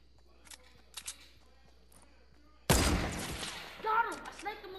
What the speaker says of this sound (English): Got him! I sniped him a little bit.